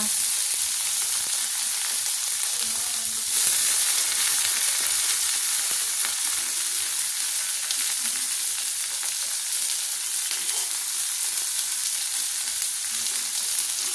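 Onion, tomato and onion greens frying together in a pan for a fish curry, a steady close sizzle and hiss holding even throughout, with faint stirring and no voices.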